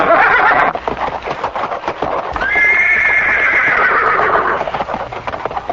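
A horse gives a loud, long whinny rising and then trailing off over steady hoofbeats, with no talking.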